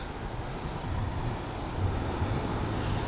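A Delta A330-900 airliner departing at London Heathrow, heard from across the airport as a steady, distant broadband engine roar with low rumble, no talking.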